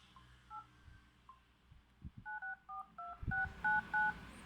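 A Xiaomi Mi5 phone plays a series of short DTMF dialing tones as keys are pressed, clear distinct beeps in an uneven rhythm, some spaced apart and then a quicker run, with faint background noise and no talk.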